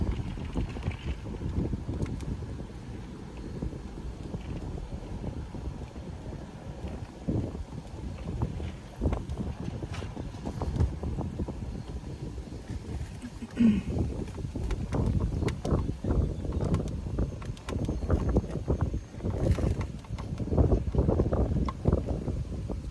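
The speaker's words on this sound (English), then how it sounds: "It's really breezy out here right now." Wind blows outdoors straight into the microphone, a constant low rumble and buffeting that swells in gusts and rarely lets up.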